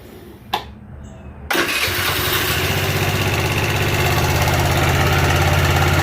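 A small engine fitted with a freshly installed brake master cylinder and a recent valve job cranks over after a brief click, catches, and settles into a loud, steady, even-running idle with no talk.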